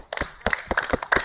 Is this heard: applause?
yes